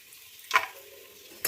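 Cashew nuts hit hot sunflower oil in a pan for biryani, giving two short bursts of sizzling, one mid-way and one at the end, over an otherwise quiet kitchen.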